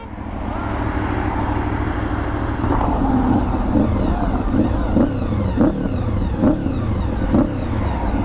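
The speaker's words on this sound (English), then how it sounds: "let's see if my bike starts." At a car meet, a motorcycle engine runs and is revved, a loud close rumble climbing into a series of regular, rhythmic throttle blips.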